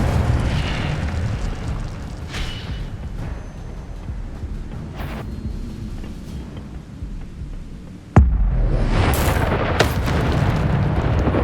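Incendio fire spell cast in Hogwarts Legacy, a deep rumbling boom that rolls on steadily, then a sharp loud burst near the end followed by a louder, sustained roar with crackling hits.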